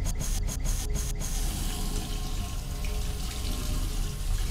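Water runs steadily from a tap in the horror video game Fears to Fathom, a continuous close hiss and splash that starts with a few quick clicks or knocks and then flows evenly without talk.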